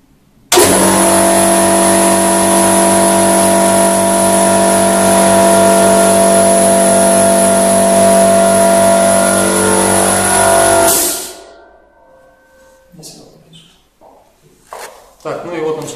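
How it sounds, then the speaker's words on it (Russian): An EK-1RH Mini 440/100 plastering station, a 220 V 2.2 kW machine, runs loud and steady with a strong whining drone for about ten seconds, then shuts off and spins down, followed by scattered clatter and movement. "сейчас я включу. Послушайте, как она работает."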